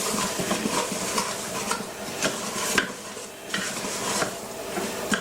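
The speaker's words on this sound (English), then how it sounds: "Just give that a stir. Get it all mixing up well." Curry powder and jeera powder get stirred in a hot pan for curry chicken, with repeated scraping utensil strokes over a steady sizzle, near and fairly loud, no one talking.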